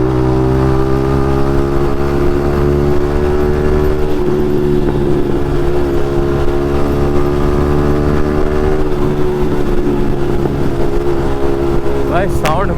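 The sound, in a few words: Yamaha MT-15 motorcycle with Akrapovic exhaust revving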